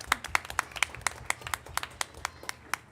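Sparse applause at a school board meeting honoring an elementary student, a small number of distinct claps ringing out in an uneven rhythm, fairly quiet and close.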